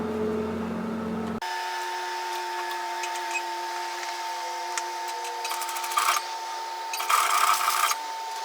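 A sewing machine stitching through the fabric layers of a tiered dress hums steadily and close, with a few short bursts of faster, rattling stitching near the end and no voices.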